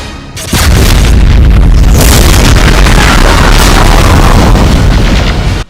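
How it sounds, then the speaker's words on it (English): BFG 9000 shots from a Doom mod: a massive, continuous roaring blast that erupts after a brief lead-in and stays very loud and saturated for several seconds before cutting off. "BFG 9000 shots in combos"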